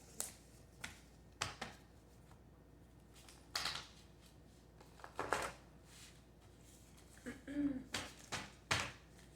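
Playing cards being shuffled by hand in a quiet room, a series of short, crisp riffling bursts spaced irregularly, fairly faint and close.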